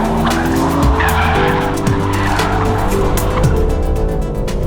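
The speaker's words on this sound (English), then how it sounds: "one with bags of power and torque so that it can go sideways like this M3 CS Touring" A rear-wheel drive BMW M3 CS Touring's engine roars loudly on a track as tires squeal continuously through a long sideways drift, with no talking.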